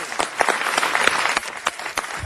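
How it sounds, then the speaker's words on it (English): Applause from the audience at a city council meeting, a brisk, lively patter of many hands clapping close by and fairly loud, holding steady for a couple of seconds without any voices over it. "And a big clap for everybody"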